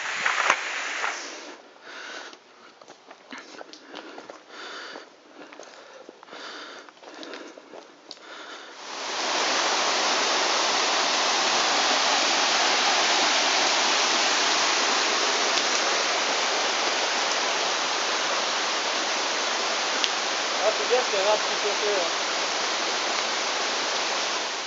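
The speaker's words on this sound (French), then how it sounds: "on est au bord de la cascade à 600 et quelques mètres de hauteur" Starting about a third of the way in, the Pisserotte waterfall fills the air with a loud, steady, close roar. Before that come softer irregular rustles and shuffles.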